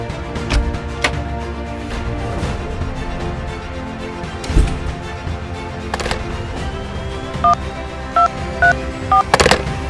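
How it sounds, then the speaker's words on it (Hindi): A telephone being dialed in a Hindi short film, a run of short keypad tones near the end over a busy, loud backdrop of music and scattered thuds. "आप केवल प्रोटो को फोन कर दीजिए"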